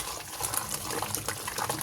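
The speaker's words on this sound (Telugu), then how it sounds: "ఇప్పుడు పాముకుందాం, పప్పు గిత్తితో పాముకునేస్తాం" A wooden dal masher pounds boiled brinjal in a pot, making a brief, wet, squelching churn that stays dense and continuous, close by and alone.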